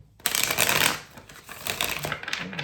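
Tarot cards shuffled firmly by hand, a dense riffling clatter that starts abruptly and runs steadily for a couple of seconds, close and fairly loud, with no talking.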